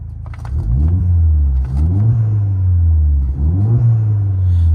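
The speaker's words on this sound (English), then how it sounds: "I'll just give it a quick rev so you can hear that engine." A 2016 Ford Fiesta ST-2 with a stage 2 remap revs close by in three quick blips, each one climbing and then settling back to a deep, gruff idle between them.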